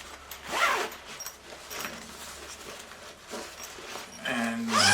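Zips on a darkroom film changing bag are pulled in several quick rasping strokes, first one way and then the other, close and clear, with soft fabric rustling between them.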